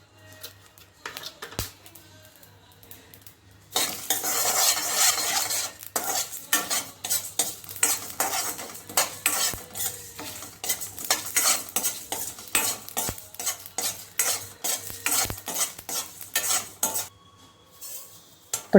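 Masala spices are dry-roasted in a pan, with rapid scraping and clinking strokes of a spoon against the metal over a light sizzle, steady and close.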